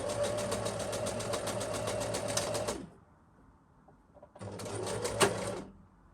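A sewing machine runs steadily while stitching through multiple layers of lace fabric, a continuous close, fairly loud whirring hum that stops for about a second and a half, then resumes in a second burst of stitching.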